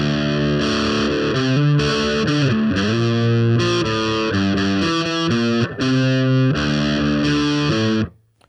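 Distorted electric guitar plays a riff in a lesson setting, a loud, sustained chugging line with shifting notes over about eight seconds before cutting off.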